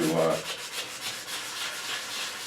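Sandpaper at 120 grit rubbed by hand over an English walnut HW80 gunstock, a steady soft abrasive hiss with gentle back-and-forth swells, close and alone after a brief tonal sound at the start.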